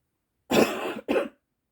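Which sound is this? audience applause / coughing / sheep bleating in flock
coughing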